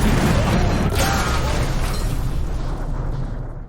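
A large explosion on a Shinkansen bullet train, a logistics car blowing up, booms and then rumbles, decaying into a long, roaring tail of debris and fire noise.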